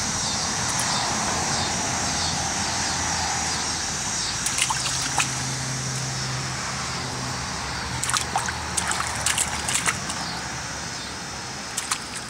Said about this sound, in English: He loves splashing in the water.